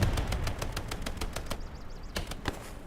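Video game gunfire in a rapid run of evenly spaced shots, a short gap, then a few more single shots, loud and close with no talking.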